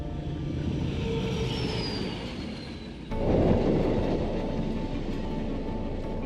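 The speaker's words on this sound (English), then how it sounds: "it's back to the train to finish the journey" A train rumbles steadily along the rails in Portugal's Douro Valley, a faint squeal of wheels early on, then a louder, closer roar of rolling carriages.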